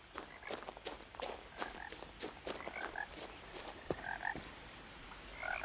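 Frog croaks repeat through a quiet game scene of What Remains of Edith Finch, soft and steady at mid distance, mixed with light footstep-like taps and no talking.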